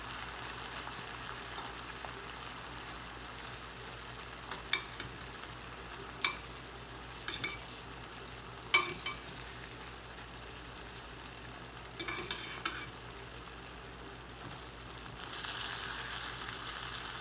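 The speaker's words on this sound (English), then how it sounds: "some of the onions and garlic will start to stick, so you just want to go in there and just scrape it" Onions and garlic frying in a pan give a quiet, steady sizzle, with scattered short scraping and tapping sounds from a utensil working the stuck bits loose; no one talks.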